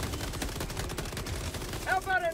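Gunfire in Helldivers, rapid bursts of automatic shots crackling in quick succession at mid distance, with a voice speaking over the end.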